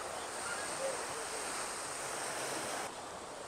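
Surf rolls steadily onto a Caribbean beach at Bávaro, a constant broad wash of breaking waves heard from close by with some wind, dropping slightly in level near the end.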